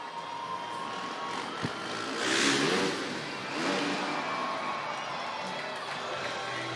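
A Kawasaki KX 450 dirt bike revs in an indoor Monster Jam arena in Toledo, its engine swelling loud twice over a steady wash of crowd noise.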